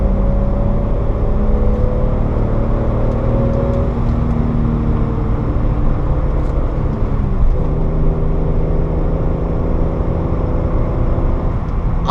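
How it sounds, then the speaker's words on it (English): A 1987 BMW 325is E30 six-cylinder engine hums steadily and loud throughout, its pitch rising and falling as it revs through the gears. "Listen to that 6-cylinder, it's so nice."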